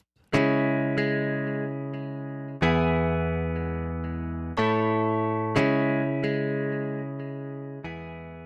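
Sampled instrument notes play back through Logic Pro's Sampler, about six sustained tones struck one after another at different velocities, each with a clear attack and slow decay, alone and close.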